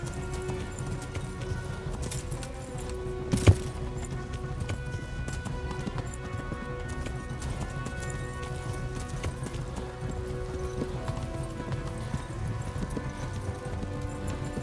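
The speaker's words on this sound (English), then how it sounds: "running that horse as hard as he possibly can" Horse hooves galloping hard in Kingdom Come: Deliverance, a rapid steady clip-clop running throughout under game ambience, with one sharp louder thump early on.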